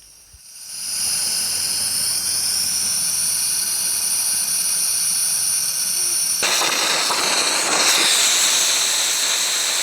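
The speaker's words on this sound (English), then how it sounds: "It made for a pretty neat pressure washer though." A hose nozzle sprays water hard like a pressure washer, a loud steady hissing rush that starts abruptly after a second and turns rougher and more splashy halfway through, with no voices.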